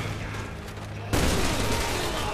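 Gunfire in Resident Evil 6, a sudden loud burst of shooting that breaks in after a quieter moment and keeps going in a dense, continuous barrage.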